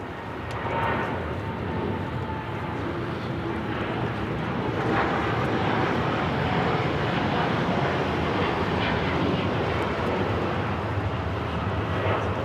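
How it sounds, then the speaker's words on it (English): A LATAM Boeing 787 Dreamliner takes off from Los Angeles airport bound for Santiago, a distant, continuous jet roar building gently and holding steady over several seconds. "Latam 603, the Dreamliner headed out to Santiago"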